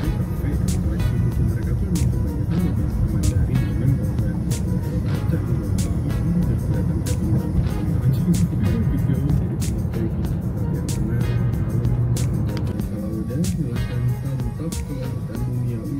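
Dense night traffic jam at the Simpang Panam four-way intersection in Pekanbaru, a steady low rumble of many car and motorbike engines with clicks and occasional passing vehicles, continuous and fairly close, no talk.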